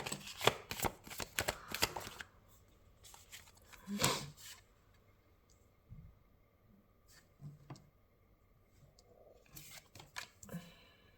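Quick riffling bursts of cards being shuffled, loud and close at first, then softer handling noises and a few more riffles near the end.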